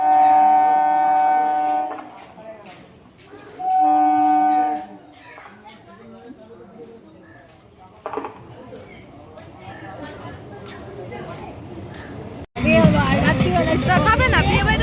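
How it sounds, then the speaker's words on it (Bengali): A train approaches, sounding two long, loud horn blasts a couple of seconds apart, followed by rumbling wheels and a sudden burst of noise near the end, amid crowd chatter and nearby voices. "আর সব ট্রেন আসছে"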